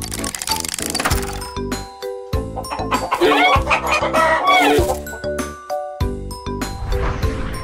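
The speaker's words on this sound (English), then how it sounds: "H-E-N. Hen." A hen clucks amid tinkling, chiming sounds, with the clucking mixed into a busy, bright layered background for several seconds.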